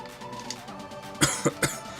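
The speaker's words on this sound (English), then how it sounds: "sorry, I'm coughing a bit." Three short, sharp coughs come in quick succession near the end, following a stretch of low background murmur.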